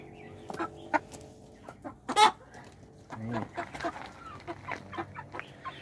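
Black naked-neck chickens, a developed breed, cluck nearby in short, irregular bursts, with one louder squawk and a murmured voice in the background.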